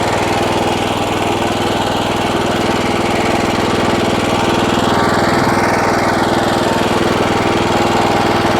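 A rotary mower driven by a Motor Sich engine, running near idle in a loud, close, unbroken mechanical drone that stays steady from start to finish.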